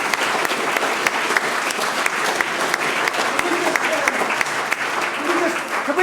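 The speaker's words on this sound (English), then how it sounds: "I'm sure that we'll give you a great round of applause." Audience applause at a local election hustings in Kings Langley, a steady dense clapping that fills the whole stretch at close range with no speech over it.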